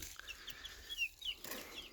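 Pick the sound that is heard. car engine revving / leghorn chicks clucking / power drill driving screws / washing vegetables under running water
leghorn chicks clucking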